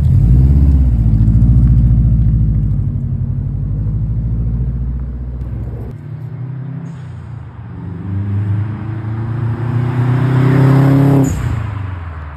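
A car leaves to be taken for its APK roadworthiness inspection. The engine revs and pulls away, its pitch climbing through several gear changes as it accelerates, loud at first and then steady in the distance.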